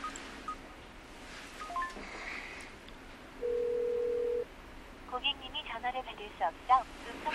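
A telephone ringback tone from an unanswered call in a Korean drama scene sounds as a single steady electronic tone lasting about a second. Faint room noise and a few soft beeps surround it.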